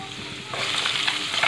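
Eggs fry in hot oil seasoned with turmeric, salt and chili powder, a steady close sizzle that grows louder as they are stirred or moved in the pan, with no talk.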